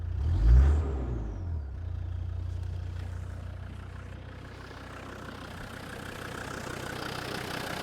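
A 2000 Land Rover Defender Td5 110 diesel with a straight-through exhaust idles steadily after a brief low surge at the start, settling into a quiet, even grumble.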